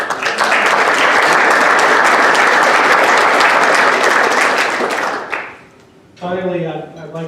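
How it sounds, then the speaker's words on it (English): Loud, sustained applause from a large audience at a Habitat for Humanity of Orange County breakfast event, dense steady clapping for about five seconds before fading, followed by a voice starting to speak. "Another round of applause."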